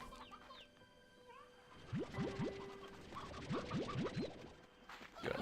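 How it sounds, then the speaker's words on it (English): Roosters and hens in the game Slime Rancher 2 give faint, scattered clucks and scratchy calls over a soft ambient background. "A lot of these roosters in here."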